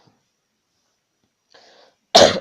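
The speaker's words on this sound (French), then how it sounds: "Je tousse maintenant, au moins je tousserai pas pendant le truc." A person gives a single sharp, close cough after near silence, preceded by a faint breathy throat sound.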